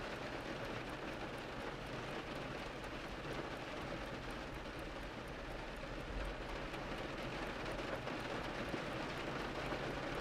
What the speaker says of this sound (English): the rain is rushing down outside